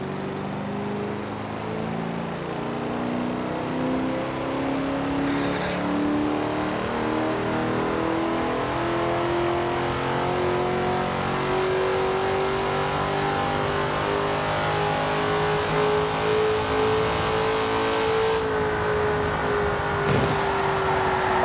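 A car engine in Forza Horizon 4, driven on winter roads, drones loudly and steadily throughout, its pitch slowly rising and falling as it revs, with no voices.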